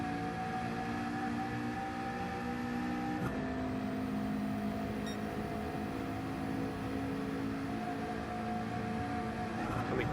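A race car engine in a sim racing game holds a steady, tonal drone throughout, with two abrupt pitch drops from short-shifted gear changes.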